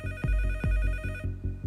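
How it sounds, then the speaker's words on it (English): A telephone rings in repeated electronic trills, loud and close with a regular rhythm, then continues as lower pulses after the bright tone cuts off; no speech. "90 minutes after the attacks begin, the phone finally rings."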